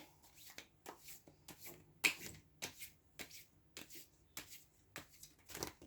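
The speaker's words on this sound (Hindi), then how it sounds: "So let me just shuffle one more card and then 3 cards have come." Tarot cards are shuffled by hand during a reading, making a steady series of close, crisp riffling bursts about every half second, with no talking.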